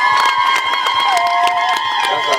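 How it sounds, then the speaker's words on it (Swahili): A crowd at an outdoor government roads event in Tanzania claps, cheers and whoops, with shouts and a sustained ringing tone over a steady, lively din. "Naomba tumpigie makofi mengi"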